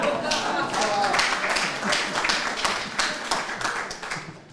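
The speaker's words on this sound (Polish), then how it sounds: "Brawa, duże brawa." A group claps in a burst of applause at a school award ceremony for a history and nature contest, uneven and lively, with a voice talking over the clapping.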